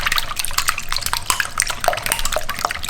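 Eggs are whisked briskly in a bowl, a close, rapid run of light clicks and wet tapping as the whisk strikes the sides in a quick, uneven rhythm with no voices.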